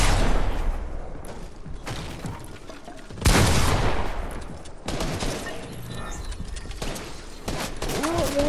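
Fortnite gunfire in a mid-match encounter, loud sharp shots and bursts with gaps between volleys, plus mechanical clicks and rattles, while players chat over voice.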